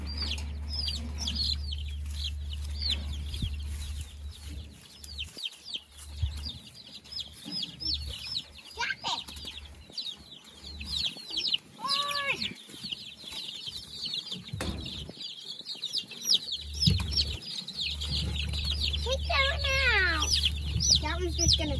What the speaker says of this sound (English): big chicken.